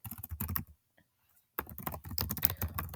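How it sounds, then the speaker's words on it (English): Rapid typing on a computer keyboard, close and crisp, with dense clusters of key clicks. Typing stops for about a second in the middle, then starts again just as quickly. "So I will type in people who binge watch"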